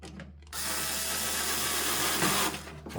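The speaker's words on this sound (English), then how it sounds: "you use a drill or irregular screwdrivers to tighten that" A power drill whirs steadily for about two seconds while driving screws into the door of a Panasonic microwave, loud and close, starting after a short quiet lead-in and tapering off near the end.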